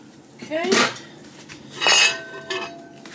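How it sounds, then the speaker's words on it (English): A lid is set onto a crock pot of beans and water, giving two or three clattering knocks and clinks of lid against pot, close and sharp, with faint voice-like sounds between. "Lid goes on."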